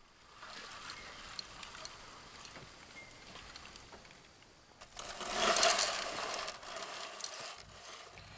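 A seed wheel planter rolls through spring garden soil, making quiet, steady ratcheting clicks close by that swell into a louder rattling stretch partway through, with no talking.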